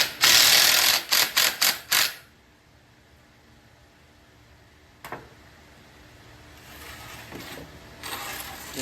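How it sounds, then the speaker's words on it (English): A power drill drives a screw into treated wood while assembling an outdoor porch dining chair, giving several short close bursts of whirring in the first two seconds, then a single brief burst later over quiet room noise. "I can drive this screw all the way in."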